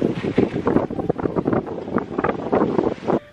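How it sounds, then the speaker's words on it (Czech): Strong wind on a beach buffets the microphone in a steady, gusting roar, loud and close throughout with no voices. "Fouká tady"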